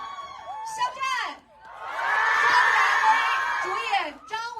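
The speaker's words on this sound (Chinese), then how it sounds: "各位电影的主创登场，掌声欢迎徐克导演" A big audience at a film roadshow in Hangzhou cheers and screams to welcome the film's director on stage, a sustained loud roar of voices after an announcer speaks.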